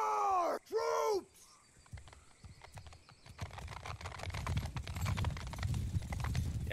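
Cavalry horses in the video game Bannerlord: two whinny-like calls open, then many galloping hooves build from sparse thuds into a dense, rising drumming that grows louder and closer.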